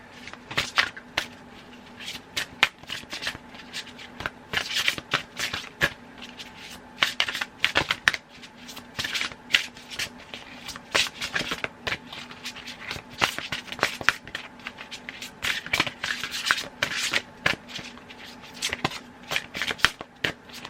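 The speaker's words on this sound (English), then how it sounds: "I'm going to pull a card from the butterfly deck" A deck of tarot-style cards is shuffled over and over in quick rustling riffles and soft flicks, close and continuous for about twenty seconds.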